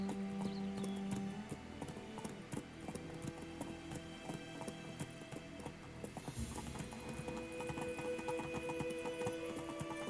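In The Witcher 3, the horse Roach travels through White Orchard, its hooves beating a steady, fairly quiet clip-clop rhythm across the whole stretch.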